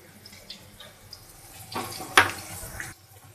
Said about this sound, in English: Now I'm going to pour in my leftover tomato puree in there.